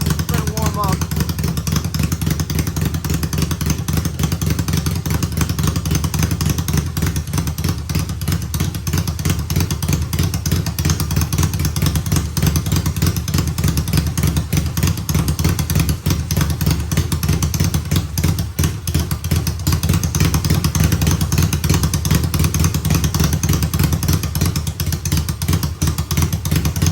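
A Yamaha XS650 motorcycle engine idles loud and close while warming up on choke, a steady uneven rumble with faint clatter running throughout, with people talking over it.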